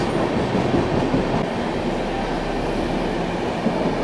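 A Gorakhpur LTT Superfast Express train rolls past, a loud, steady roar of wheels and rail noise filling the whole stretch without a break, no voices.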